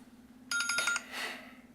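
A phone ringtone sounds once, a short bright trill of rapid repeated electronic tones over a steady low hum, fairly close and with no talk.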